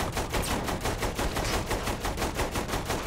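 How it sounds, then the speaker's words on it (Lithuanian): Dense, continuous automatic gunfire from a Saints Row 3 shootout, rapid evenly spaced bursts filling the whole stretch loudly with no voices. "Mane šaudo."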